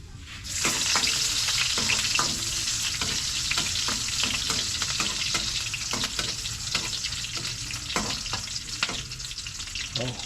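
Onions fry in a hot pan for an eggplant omelette, a dense crackling sizzle with frequent stirring scrapes and clicks, loud and close for the whole stretch, with no talk.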